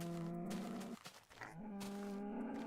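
Two cows mooing in the video game Minecraft, a low drawn-out moo followed by a second after a short break, fairly close and clear with no talk.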